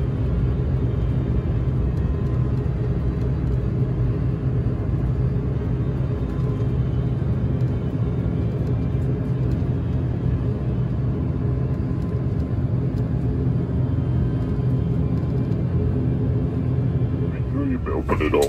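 Loud, steady turboprop airliner engine drone close by on the apron at Subang airport, a constant low rumble and whir holding unbroken for the whole stretch.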